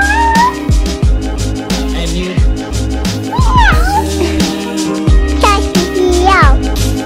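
A child imitates a cat's meow several times, rising and falling vocal mews close by, mixed with a woman's and a child's chatter over steady background noise.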